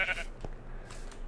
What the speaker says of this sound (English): Ooh, it's a white sheep.